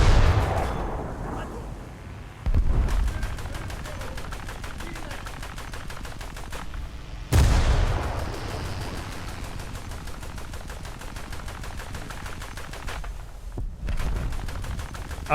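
Naval gun turrets firing in the War Thunder video game, two heavy booming blasts several seconds apart, each followed by a long rumbling decay over steady engine drone and continuous rapid crackling.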